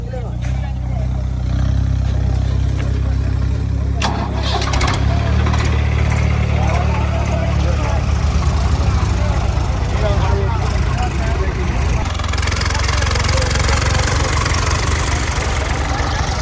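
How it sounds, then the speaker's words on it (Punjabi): A loud, steady tractor engine idles throughout with a heavy low rumble and rattle, while people talk over it while loading sand. "ਟਰੈਕਟਰ ਅੱਗੇ ਲਾਇਓ"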